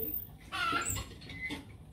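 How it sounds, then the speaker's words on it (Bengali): A chicken in a village clucks in a couple of short, close bursts over faint background noise. "মুরগি"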